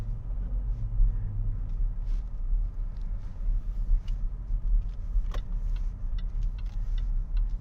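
A 2013 Range Rover Sport HSE, not supercharged with 375 horsepower, driving around town, heard from inside as a steady low engine and road rumble with faint ticking and small clicks, no talking.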